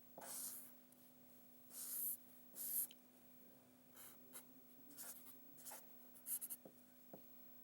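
Pencil or pen sketching on paper for an emoji drawing, heard as scattered scratchy strokes in short bursts, fairly faint, over a steady low electrical hum with no talking.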